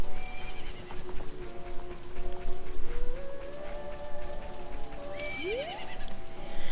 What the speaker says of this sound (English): I just got ran over by a horse.